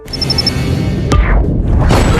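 A bomb detonated by remote from a boat at sea goes off as a loud, sudden boom with a crashing burst, followed by a rumbling roar that stays heavy to the end.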